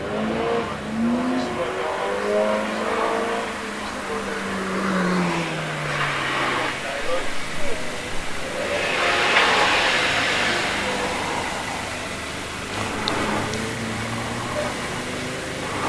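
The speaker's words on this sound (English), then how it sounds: "As around Hatchets goes Richard Morris in his Mazda MX-5" Mazda MX-5 rally car accelerating up a hillclimb at Prescott, its engine revving and rising in pitch over a steady roar of crowd and outdoor ambience, with a commentator's voice over the public address.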